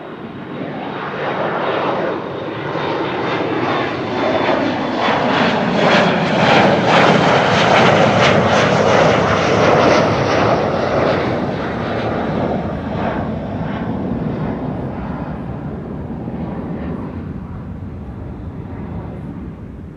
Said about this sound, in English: there's the Embraer 175 to Jersey coming this way